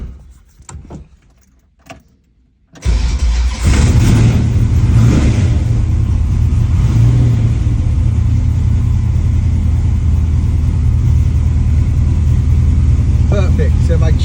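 A 1968 Plymouth Barracuda during a tune-up: a few quiet clicks and key sounds, then the engine cranks and catches, settling into a loud, steady idle that runs to the end.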